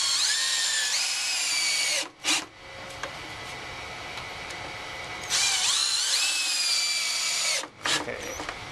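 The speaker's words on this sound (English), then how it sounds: "and now we're screwing down in there." A power drill drives screws into the timber of a raised garden bed: two long, loud whirring runs with rising pitch, each ending in a sharp stop, then a short burst.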